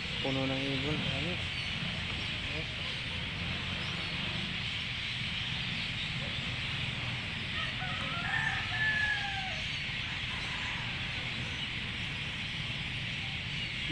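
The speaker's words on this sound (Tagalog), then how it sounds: "Tingay ng mga ibon doon sa puno na yun." Bird calls outdoors from a tree: a rooster crows near the start, and short high chirps come later, over steady background noise with someone talking.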